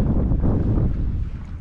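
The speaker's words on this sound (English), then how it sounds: "So the camera is facing into the wind." Wind buffets an outdoor camera microphone facing into the breeze beside water, a loud steady low roar of wind noise with no talking.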